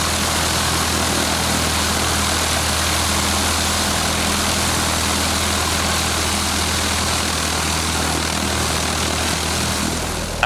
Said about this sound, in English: Wow, look at that propeller spinning so fast.